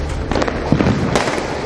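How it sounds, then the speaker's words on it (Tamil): Diwali fireworks go off over Vellore in a quick, loud run of sharp bangs and crackles, with several overlapping bursts and no voices. "வேலூரில் தீபாவளி களை கட்டிய நிலையில் வானவேடிக்கைகள் காரிருள் வானை வண்ணமயமாக மாற்றியது"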